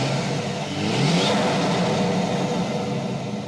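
A modified turbocharged car with new mods revs and accelerates on the road, engine roar steady and loud with a rising pitch sweep, picked up close at both intake and exhaust.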